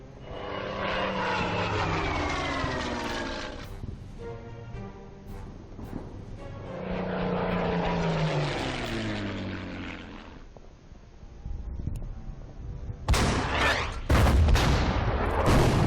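Propeller warplanes droning overhead in the World War II strategy game Order of Battle, a loud engine hum swelling and fading in two long passes, followed by sharp bursts of gunfire or explosions near the end.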